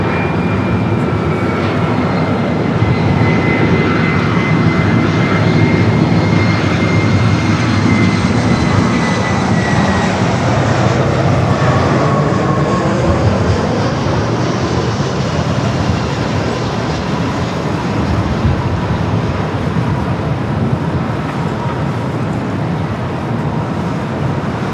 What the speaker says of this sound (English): Delta A319 flight coming up from Denver up next.